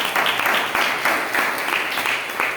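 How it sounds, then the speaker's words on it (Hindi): A congregation at a church gathering breaks into brisk, continuous applause that swells in a few waves, loud and close, with no talking over it. "इस बात पे तालियां होनी चाहिए।"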